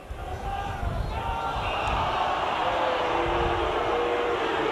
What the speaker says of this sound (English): And there are boos from the Warrington crowd